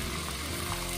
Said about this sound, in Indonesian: kita goreng dulu kepala ikan kakapnya tadi setengah kering ya